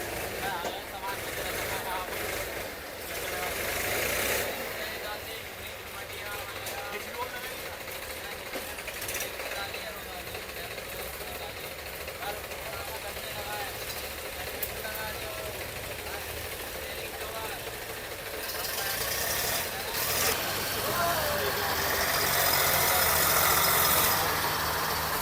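New tractor engine under test at a tractor market, a continuous rough mechanical chugging and rattle running throughout, swelling louder near the end, with people talking over it.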